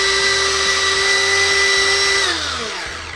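An electric grater grates garlic for tzatziki with a loud, steady motor whine carrying a rough rattling texture, then slows and drops in pitch as it winds down.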